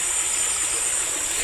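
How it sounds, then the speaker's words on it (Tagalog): A small, clear stream runs in a steady, close rush of water, with an even hiss and no pauses. "Hindi po siya malaking ilog, sapa lang po siya. Pero malinaw po ang tubig niya. So bali running water po siya."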